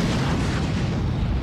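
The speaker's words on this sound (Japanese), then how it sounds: "爆発音。" A loud, sustained explosion rumbles through a scene in the video game Naruto Shippuden: Ultimate Ninja Storm 3, a dense low roar filling the whole moment with no voices over it.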